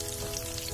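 Aloo samosa rolls frying in a pan sizzle and crackle in a steady, close, even hiss, alone with no voices.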